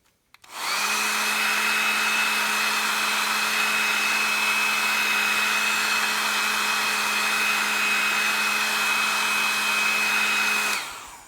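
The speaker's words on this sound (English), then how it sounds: "hit it with a hairdryer." A hair dryer whirs on, blows at a steady high-pitched whine for several seconds drying watercolor paint, then cuts off.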